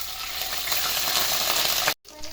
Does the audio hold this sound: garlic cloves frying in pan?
yes